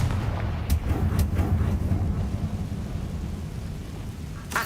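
A Confringo blasting spell in Hogwarts Legacy bursts with a deep rumbling boom, followed by a few sharp cracks and a long low roaring tail that fades slowly, with one more hit at the end.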